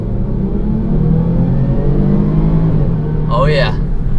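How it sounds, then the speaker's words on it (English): A supercharged engine in a 2017 Range Rover Sport accelerates under a heavy rumble, heard from inside the cabin, with a rising supercharger whine. A brief voice is heard near the end. "you can hear that supercharger whine"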